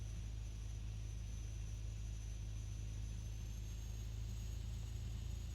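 A turboprop aircraft engine runs steadily during a ground start as its RPM comes up. The roar is a constant, even drone with a high whine on top and no break across the clip.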